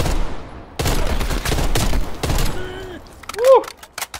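Heavy machine gun fire in Call of Duty Black Ops Cold War, loud sustained bursts dominating the first few seconds, then tapering off as a brief whistling tone and another sharp report follow near the end.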